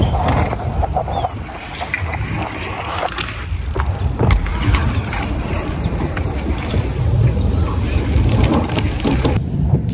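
A BMX bike rolls across a skate park spine with a rough, continuous tire rumble, wind buffeting and a few sharp clanks close by, and no talk.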